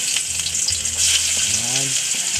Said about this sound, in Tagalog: Pag makulay ng konti ang bawang, susunod itong sibuyas.